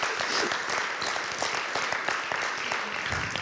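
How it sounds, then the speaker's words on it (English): A school district's State of the District gathering breaks into applause, a loud crowd of hands clapping steadily throughout with faint murmuring voices mixed in. "So a big round of applause for the community helping us with that."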